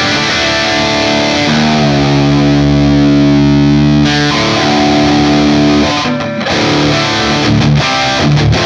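Heavily overdriven electric guitar through a blue drive pedal into a Marshall-style rig plays loud sustained chords and riffs, with thick gritty distortion and brief choppy pauses near the end.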